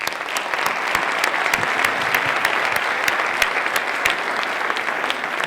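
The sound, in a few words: audience applause welcoming a speaker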